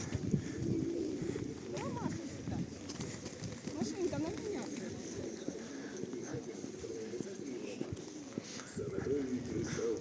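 Pigeons coo repeatedly beside a pump room in a spa resort park in spring, with footsteps passing and people talking nearby throughout.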